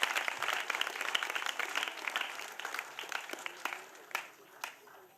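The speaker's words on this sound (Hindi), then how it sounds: "हमारे मुख्य अतिथि स्वप्निल जी के लिए जोरदार तालियां।" Audience at a school annual day applauding the chief guest, a quiet wash of many hands clapping that thins out toward the end, heard from a distance.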